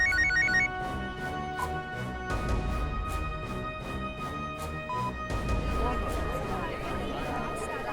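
A mobile phone rings in a courtroom scene of a Hindi TV crime drama. A short burst of repeating electronic ring tones opens the stretch, then dramatic background music and voices take over.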